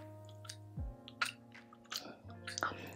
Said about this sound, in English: You have to chew down on that, and that really tightens your Invisalign.